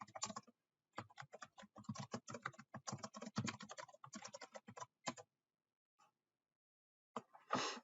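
Quick bursts of keystrokes on a computer keyboard while entering a command into a statistics program, rapid and uneven, pausing briefly near the end before a final short flurry.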